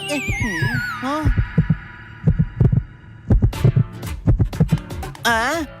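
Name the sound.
cartoon character's heartbeat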